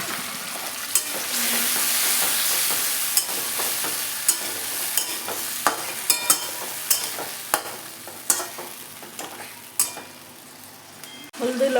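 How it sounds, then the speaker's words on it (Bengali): Potatoes and fish fry in a pan with a steady hiss and sizzle, broken by repeated sharp clinks and scrapes of a utensil stirring, close and fairly loud throughout. "সামান্য একটুখানি জল দিয়ে দিচ্ছি আমি"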